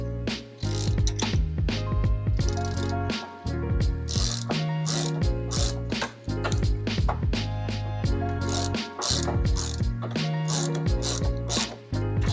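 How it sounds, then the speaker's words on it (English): A hand ratchet clicks rapidly in repeated bursts with short pauses between strokes while loosening a 16mm drop link nut on a Porsche 911 suspension, close and distinct with no talking. "now we're going to loosen this 16mm nut while also holding that threaded bolt on"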